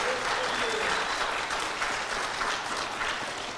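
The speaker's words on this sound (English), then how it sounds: "Another round of applause." A church congregation gives a round of applause at an evening service, a dense, steady wash of many hands clapping that holds at an even level for the whole stretch, without clear speech over it.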